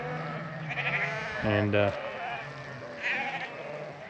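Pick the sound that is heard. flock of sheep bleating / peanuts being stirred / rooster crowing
flock of sheep bleating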